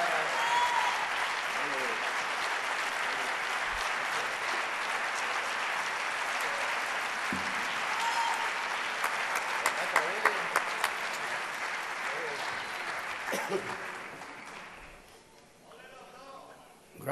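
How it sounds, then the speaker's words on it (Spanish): Sustained audience applause fills a hall at a flamenco cultural club's 35th anniversary celebration, a dense, steady wash of clapping lasting about fifteen seconds before tapering off, with a few louder individual claps near the end. "Qué alegría escuchar esos aplausos de todos ustedes"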